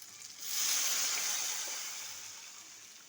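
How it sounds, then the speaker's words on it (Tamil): A tamarind-tomato mixture for fish curry is poured into a hot pan, rising into a bright, hissing sizzle and splash that peaks quickly and then slowly fades. "இப்போ இந்த கரைச்சி வச்ச குழம்பு எடுத்து அதில் ஊற்றிட்டு போகிறோம்."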